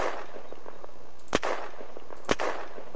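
Two sharp, loud rifle shots from a Zubeknakov fired prone through an 8x scope in the video game Unturned, spaced about a second apart over a steady low background hiss.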